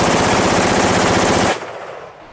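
Rapid automatic gunfire from an AR-15 rifle fed by a 50-round magazine, a loud, dense stream of shots lasting about a second and a half before cutting off into a fading echo.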